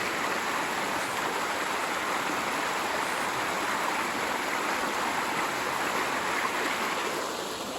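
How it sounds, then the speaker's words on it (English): Water pours out of a pipe and spills down a small gully toward a creek, making a constant rushing, splashing wash that stays even and moderately close throughout. "goes through a pipe, comes out the other side and spills off towards the creek down this continuation of the little gully"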